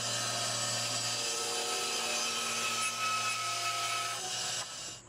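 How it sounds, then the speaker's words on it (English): Bandsaw cutting a 10-degree angle in wood for an easel, a steady tonal whine and rasp held for about four seconds before the cut ends and the sound drops off. "Next we'll move over to the bandsaw and we'll cut our 10 degrees."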